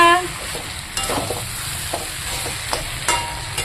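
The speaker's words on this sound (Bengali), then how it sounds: "আজকে তো রবিবার তাই বানিয়ে নিলাম মটন লাল লাল ঝাল ঝাল করে কষিয়ে নিচ্ছি" Spicy mutton stir-fries in a pan, a steady close sizzle with periodic scraping and stirring strokes of a spatula.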